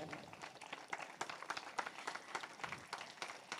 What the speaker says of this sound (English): Applause, applause everyone.